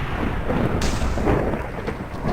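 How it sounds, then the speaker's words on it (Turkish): Deep, continuous rumbling booms of video game explosions in Minecraft roll on without pause, loud and heavy, with no voices. "Hep böyle patlama sesleri falan geliyor."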